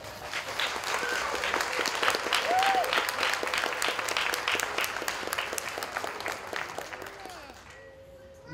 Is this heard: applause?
yes